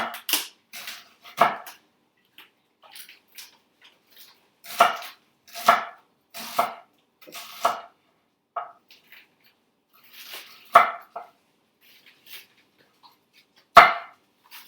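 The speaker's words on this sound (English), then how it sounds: "I'm slicing these pretty thin, just so that they cook down." A knife slices shallots thinly on a cutting board, sharp irregular chops in small bursts with pauses between, close and crisp against a quiet background.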